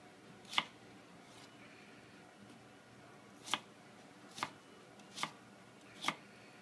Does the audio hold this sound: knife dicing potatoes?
yes